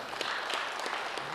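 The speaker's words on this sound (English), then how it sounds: "can we give him a round of applause?" Brief, faint round of applause from an audience at a government resolution presentation, a soft continuous patter of clapping with a few slightly sharper claps scattered through.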